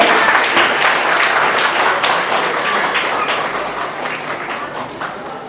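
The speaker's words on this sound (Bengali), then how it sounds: "ট্যালির জন্য একবার জোরে হাততালি চাইবো সবার কাছে।" Loud applause from an audience at a scholarship day event in the Sundarbans, thick continuous clapping that starts strong and slowly tapers toward the end.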